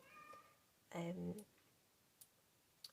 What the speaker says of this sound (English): You might be able to hear my cat shouting at me now.